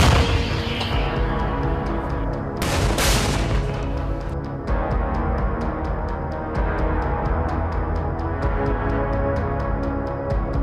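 A towed FH-70 155mm howitzer fires in combat, with a loud broadband blast near the 3-second mark over a continuous dense rumble, and sharp repeated cracks ticking steadily through the rest of the stretch.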